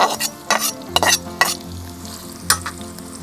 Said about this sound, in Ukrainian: Далі додаємо олії та обсмажуємо